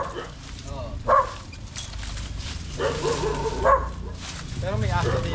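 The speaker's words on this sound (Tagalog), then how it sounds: "Pero may aso dito." A dog at a house in the Philippines barks and yips several times in short bursts, fairly close, over steady outdoor background noise and people talking nearby.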